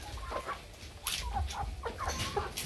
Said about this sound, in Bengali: মুরগিও আছে, দেশি মুরগি।